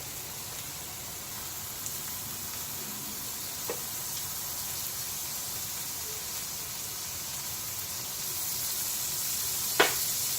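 A steak sizzles in butter in a cast iron pan with a faint, steady hiss that continues throughout, broken only by a couple of soft pops and ticks.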